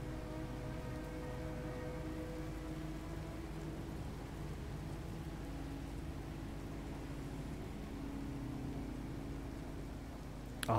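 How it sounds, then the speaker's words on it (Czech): Steady rain falls on a planet in No Man's Sky, a continuous even hiss with low rumbling undertones that holds throughout, with no voices. "Akorát bude asi pořád pršet teda, no."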